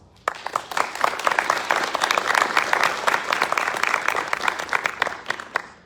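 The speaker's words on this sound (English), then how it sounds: "Please give them a round of applause." At a Minnesota community discussion on Afghan refugee resettlement, the audience breaks into a round of applause, starting abruptly and carrying on as a full, even clatter of many hands until it thins near the end.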